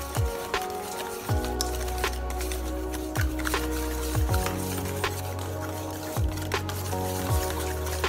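Garlic being stirred into plum sauce in a pan, giving soft wet squishing and dripping sounds with occasional low thumps of the spoon at an unhurried rhythm, close by and with no talking.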